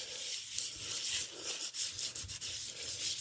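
Soft, continuous rubbing of gentle hand sanding over varnish on the inside of a wooden boat hull, faint and close with a slight back-and-forth swell.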